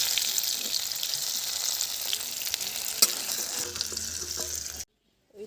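Tomatoes frying in hot oil in a pan sizzle steadily and close up, with occasional stirring clinks, before the sound cuts off abruptly near the end.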